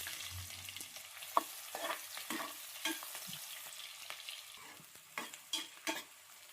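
Onions with cinnamon and mustard seeds frying in a pan for tomato bath, a steady sizzle broken by scraping stirs and small pops and clinks, close and moderate in level, with no talking.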